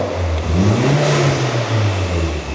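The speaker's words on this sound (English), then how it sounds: "Shall we get a rev? Shall we see what she sounds like? Quick cold rev." Volkswagen engine swapped into a Ford Escort, revved once from cold: a loud, close engine note that climbs and holds for about a second before settling back to a steady idle.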